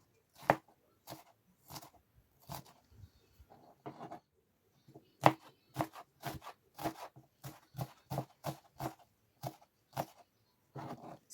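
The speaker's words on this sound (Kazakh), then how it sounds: "Сарымсағымызды турап болдық." Garlic is chopped into small pieces with a knife on a cutting board, sharp close knocks in irregular bursts that settle into a faster, steady rhythm toward the end.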